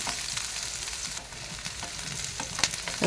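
Sliced onion frying in a little oil in a kadai, a continuous close sizzle and crackle with a few scraping stirs near the end.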